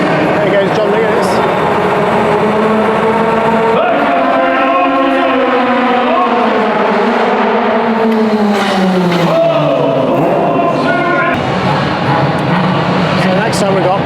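Racing motorcycles, including a BMW M1000RR, roar through an indoor super sprint at the London Motorcycle Show, their engines loud and continuous as pitch climbs and falls through gear changes, with voices underneath.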